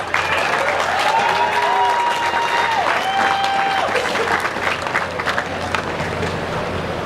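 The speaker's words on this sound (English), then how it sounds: "it's deserving of a loud cheer and another round of applause" Loud, dense audience cheering and applause at a coronation ceremony fill the whole stretch, a large crowd clapping steadily with whistles and shouts rising over it.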